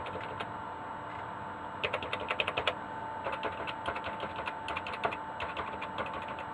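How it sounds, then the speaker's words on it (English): Keys on a SAM Coupe home computer keyboard pressed one by one in short bursts and quick runs, crisp close clicks with brief pauses between them, no voices. "So it's like half the keyboard works, half the keyboard doesn't work."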